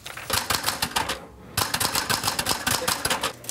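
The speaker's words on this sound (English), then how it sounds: "one young author in Nanaimo is keeping that old school way of typing alive, one story at a time" Keys clack rapidly on an old manual typewriter, a crisp run of strikes that pauses briefly midway before the fast, close typing resumes.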